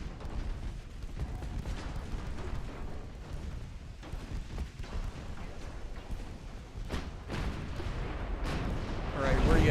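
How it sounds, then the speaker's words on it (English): Secondary guns on two battleships in a naval video game fire a continuous barrage of rumbling booms, with repeated sharper cracks building toward the end. "immediately succumbs to the secondary barrage of the two battleships"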